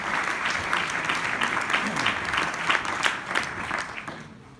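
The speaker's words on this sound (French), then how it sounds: "On peut les applaudir" Audience applause at the La Mayenne Innove 2019 business event as company guests walk on stage, a crowd of hands clapping steadily with distinct claps, then tapering off.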